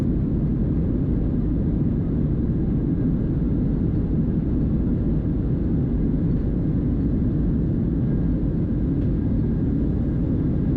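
A Southwest Airlines Boeing 737-7H4 taking off from Oakland on runway 30 fills the cabin with a steady, loud, low jet engine roar that holds constant throughout.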